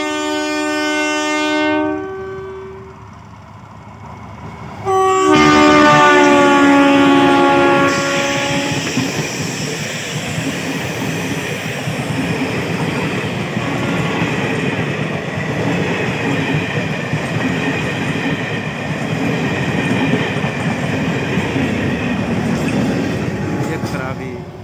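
A crowded Raxaul–Darbhanga DEMU passenger train passes at close range toward Sitamarhi Junction, its loud horn blaring for several seconds before giving way to a steady rumble and clatter of wheels over the rails.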